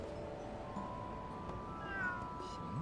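Cats meow in the video game Lost Judgment: a few soft, faint mews over a steady background hum of game ambience and music.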